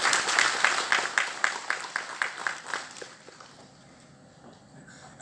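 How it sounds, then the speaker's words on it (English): Applause from an audience at a live online gathering with an honorable minister present, sounding as a run of rhythmic clapping bursts that fade out within a few seconds into quiet. "So a huge round of applause for everybody on here."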